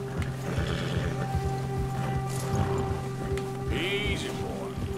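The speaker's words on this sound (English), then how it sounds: "the bear has spooked your horse. When the predator is nearby, your horse gets agitated." An agitated, spooked horse in Red Dead Redemption 2 whinnies once, high and shrill, near the end, over steady hoof clopping and a constant game background hum.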